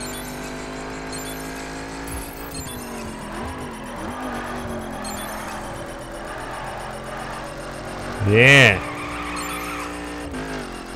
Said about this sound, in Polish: trochę brakowało mi tutaj przyczepności, ale to normalne na śniegu